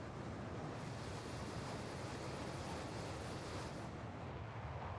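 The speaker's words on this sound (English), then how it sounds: "I hear another jet somewhere, very close to me." A nearby jet roars as a broad, steady rushing drone in Microsoft Flight Simulator, heard alone with no talk, a faint high whine riding over the wash before easing toward the end.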